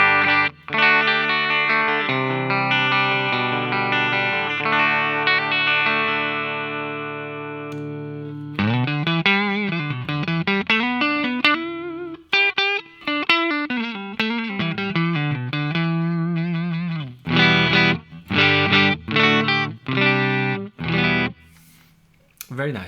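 A Telecaster electric guitar with Area T pickups plays through the clean channel of a Bogner Goldfinger 45 amp. Sustained chords ring out, then shorter rhythmic strummed chords with brief gaps follow, loud and alone.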